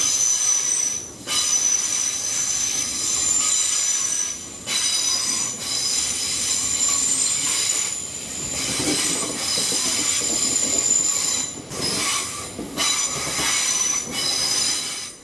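A British Rail Class 800 train passes close by with loud, continuous rumble and high wheel squeal, the sound pulsing as carriages go by with faint clickety-clack.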